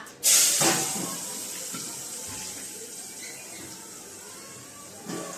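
Cumin seeds hit hot ghee in a pan with a sudden bright sizzle that settles into a steady, hissing fry, close by, with a small fresh crackle near the end.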